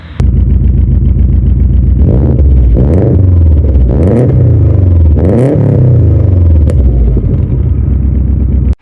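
A Subaru WRX with its original factory exhaust refitted rumbles loudly and close up, revving repeatedly in several rising and falling pulls over a deep, steady idle burble.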